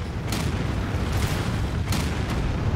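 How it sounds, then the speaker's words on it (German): Incoming fire on a city in the strategy game Anno, with a rumbling barrage and several sharp booming impacts breaking through at intervals. "Wir werden beschossen."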